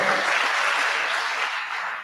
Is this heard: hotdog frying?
no